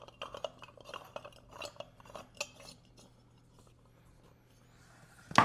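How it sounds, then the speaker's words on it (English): Small metallic clinks and light scraping as a nut is tightened onto a pendant light dome, a quick cluster of faint taps that fades into quiet before a sharp louder knock at the end. "we're going to insert that into the dome and then just tighten this nut back up again"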